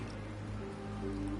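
Steady rain in the video game Wuthering Waves, a soft continuous patter and hiss with faint low hum, quiet and even throughout.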